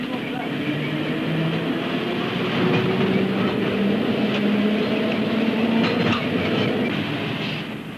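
A British tram rumbles steadily along its rails, a continuous low mechanical drone with faint rattles and clatter, loud and close throughout.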